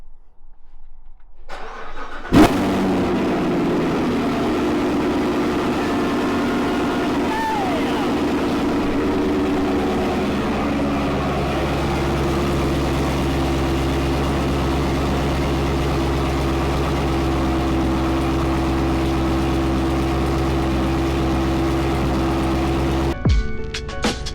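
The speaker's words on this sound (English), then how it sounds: "Let's go ahead and fire up the Corvette." A Chevrolet C7 Z06 Corvette cold-starts with a sharp crank and loud flare, then settles into a steady, rumbling high idle that holds for about twenty seconds before a brief blip near the end.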